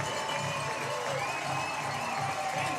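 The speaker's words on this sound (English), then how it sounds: "Crowd is heavily into it here" A crowd at a college softball game between Mississippi State and Tennessee at Nusz Park keeps up a steady roar of cheering and noise in the stands. A few sharp whistles rise above the din.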